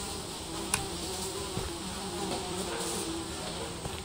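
Mosquitoes buzz in the Japanese horror game Akai Onna, a steady, faint insect drone with small clicks throughout, no talk over it.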